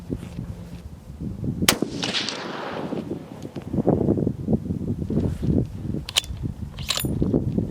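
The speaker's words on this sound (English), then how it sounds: "So we'll do a 3-shot group" A Howa HS Precision 1500 rifle chambered in 300 Win Mag fires outdoors. Each sharp, heavy report is followed by a rolling decay, and a few shots are spaced out over light background rustle.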